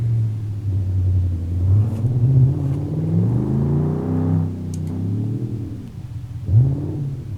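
A Ford Mustang engine in BeamNG.Drive, building boost before a quarter-mile straight-line run, revs loudly and close, climbing in pitch through several gear pulls with brief dips between shifts and no voices.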